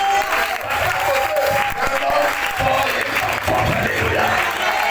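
A church congregation at a Pentecost service applauds and cheers for Jesus, dense sustained clapping and shouting from a crowd filling the room, loud and close throughout.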